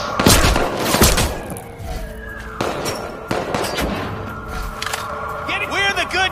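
Rapid paintball gun fire in the video game Watch Dogs 2 rattles out in dense, loud bursts of sharp pops and clanging impacts, with game sounds and talk mixed in around the shots.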